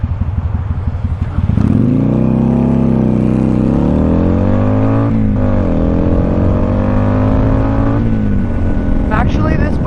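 A Kawasaki Vulcan cruiser motorcycle runs loud and close, its engine note rising and falling through the gears as the rider accelerates, with steady wind rush under the exhaust.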